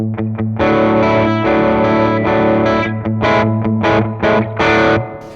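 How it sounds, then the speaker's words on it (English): Gibson electric guitar plugged straight into a REVV D20 amp with cranked gain and a touch of reverb, loud distorted sustained chords followed by choppy staccato stabs, with no talking. "this is the Gibson straight into the amp with a bit of reverb"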